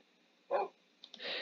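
Dogs in the game Minecraft barking: one short bark, then a couple of quick yips leading into a longer bark, clear and fairly quiet against a silent background, with no speech.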